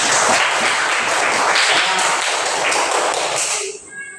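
Students in a classroom clap together for the performing groups, a thick burst of many hands clapping loudly for several seconds, then cutting off abruptly near the end.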